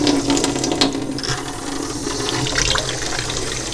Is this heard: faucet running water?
yes